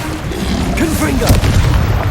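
A Confringo fire spell explodes in the Hogwarts Legacy video game, a deep booming blast with a crackling tail, layered over combat effects while a voice shouts.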